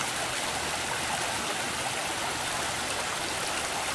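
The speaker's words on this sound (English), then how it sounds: "we are fishing for native brook trout at this very nice little stream here" Small native brook trout stream in Pennsylvania flowing in the evening, a steady, close hiss and babble of running water that stays even throughout.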